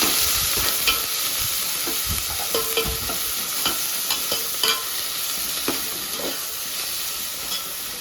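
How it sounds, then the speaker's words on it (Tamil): Small onions sautéing in a pan, added after dried red chillies were fried for a goat intestine gravy, with a steady sizzle and repeated scraping stirs alone, close and moderately loud. "சின்ன வெங்காயத்தை அதில் சேர்த்துக்கலாம் நல்லா சிவக்க வதக்கிக்கலாம்"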